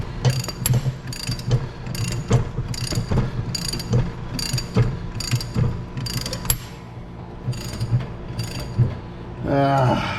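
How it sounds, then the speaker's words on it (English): Ratchet turning a wheel bearing puller on the rear wheel of a 1993 Mark VIII, a series of sharp clicking bursts in a steady rhythm, close and fairly loud, ending in a short grinding squeal. "I'm surprised how easy it's coming off using the puller."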